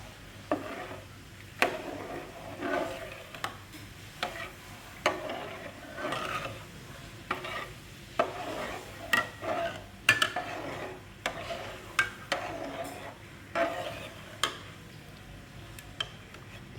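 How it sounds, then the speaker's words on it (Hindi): A spoon stirs khoya into milk in a pan while making rasmalai, giving a steady run of light metallic clinks and scrapes, each one short and close, with no talking. "खोया ऐड करने के बाद हमने इसको हल्का हल्का चम्मच चलाते रहना है"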